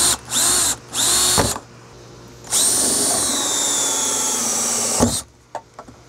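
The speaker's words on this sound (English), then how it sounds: "And we've gotten our first hole drilled successfully." A power drill whines in two short bursts and then runs steadily for a few seconds while boring a hole in a plastic rain barrel, followed by a few faint clicks and knocks.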